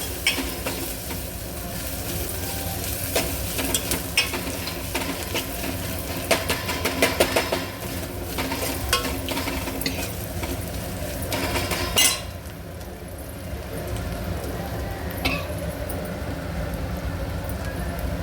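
Ginger garlic paste fries in a pan with a steady, continuous sizzle, joined by irregular scraping and stirring clatter from the utensil, with no talking.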